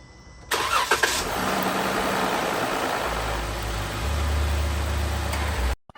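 A Jeep Wrangler JK cranks and fires up right after an oil change, settling into a steady, close idle that shifts to a deeper rumble partway through before cutting off abruptly at the end.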